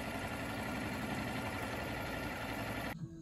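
A big electric motor drives the shaft of a line-boring machine clamped to the skeg of a Contessa 32 sailboat. It gives a steady, loud mechanical drone that stops abruptly near the end.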